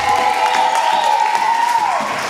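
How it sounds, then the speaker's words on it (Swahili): Church congregation applauding at a celebration service, a steady continuous wash of clapping and crowd noise that stays loud and even throughout, with a sustained tone running beneath it. "Alafu mshangilie Bwana Yesu kwa makofi"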